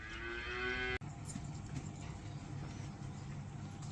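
A calf at a cattle farm in Andijan, Uzbekistan gives one loud, drawn-out moo of about a second, then breaks off into a steady background of farmyard noise and a low idling engine hum.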